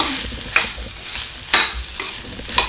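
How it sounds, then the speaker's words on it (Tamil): Pumpkin poriyal with grated coconut being stirred in a pan over a low flame: three rhythmic scraping strokes about a second apart, close and fairly loud, over a soft steady sizzle. "இப்போ தேங்காய் துருவல் சேர்த்து நல்லா கிளறி விட்டாச்சுங்க"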